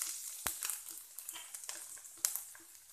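Garlic and grated ginger crackle in hot oil over a low flame, a soft continuous sizzle with scattered pops and two sharp clicks, fairly quiet.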